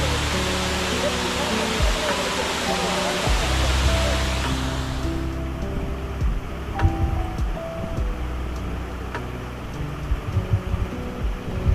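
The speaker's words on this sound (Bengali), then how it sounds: "খুব সুন্দর লাগছে ফলসটা, উপর থেকে জলটা পড়ছে।" Bamni Falls in Purulia, water falling from above as a steady, loud broadband rush that fills the scene, fading somewhat partway through, with people talking nearby.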